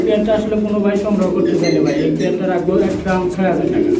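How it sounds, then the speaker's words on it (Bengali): Pigeons coo at a pigeon seller's stall where a pair of yellow birds is on offer, with steady low, throaty cooing running continuously under muffled nearby voices. "একজোড়া ইউলো কালারের কবুতর রয়েছে"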